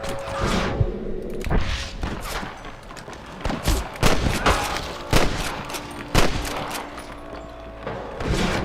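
Video game shootout with rapid, repeated gunfire bursts and booming shots, loud and close, coming in uneven volleys over a rumbling background.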